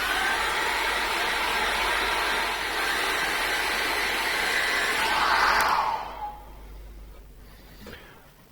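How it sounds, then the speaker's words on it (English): A hairdryer blows a loud, steady whooshing roar over acrylic paint, running continuously before switching off near the end and winding down to quiet. "dry that off with the hairdryer"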